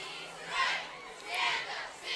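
A home-side crowd at a high school football game roars in surging waves of cheering and shouting from the stands, loud and continuous across the short stretch.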